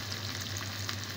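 Fava beans sizzling and frying steadily in a hot pan, a close, even crackle.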